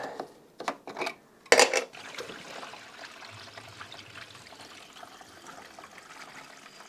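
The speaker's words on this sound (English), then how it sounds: "I want to fill in some coolant through this one" Coolant is poured into the radiator of a Mercedes-Benz S123 300TD, a soft continuous trickle running steadily after a few brief knocks and a sharp clatter at the start.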